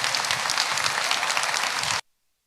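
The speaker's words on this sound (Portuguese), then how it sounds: "Se quiserem aplaudir esse momento, podem fazer." A church audience applauds during a family service marking the launch of new temple works, a dense, lively burst of clapping at full strength that cuts off abruptly into silence.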